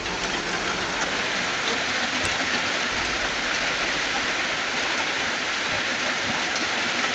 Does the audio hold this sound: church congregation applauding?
no